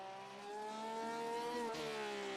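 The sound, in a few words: Porsche race car engine roar, racing video game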